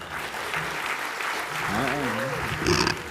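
Modest applause from a conference audience at a short-term letting and accommodation event, a thin steady clapping wash with a voice talking over it partway through.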